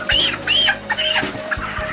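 Broiler chickens cluck and squawk nearby while being weighed on a farm scale, several loud, sharp calls in quick succession, followed by softer shuffling and thumps.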